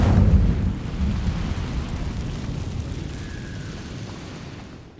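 An Incendio fire spell blasts in Hogwarts Legacy, a loud, deep booming burst at the start that rolls into a long rumbling roar and slowly fades over several seconds, with no talking.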